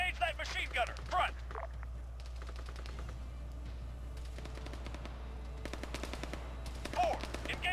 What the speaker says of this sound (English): Engage that machine gunner! Front!